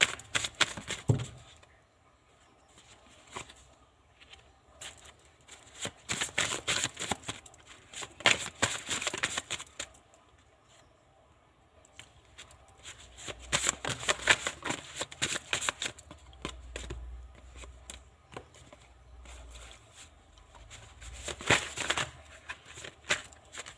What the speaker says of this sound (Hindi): कुछ कार्ड और लेती हूँ मैं आप लोगों के लिए